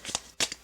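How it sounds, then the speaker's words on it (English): Tarot cards are shuffled and handled up close, with two quick papery flutters of cards slipping and riffling in under a second, soft and crisp. "all the cards slipped out of my hand"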